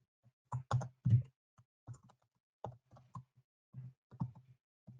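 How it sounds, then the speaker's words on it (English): Typing on a computer keyboard in a quiet room, with irregular clusters of close, crisp key clicks and short pauses between bursts. "If you don't have that done yet, just type in the seller's email."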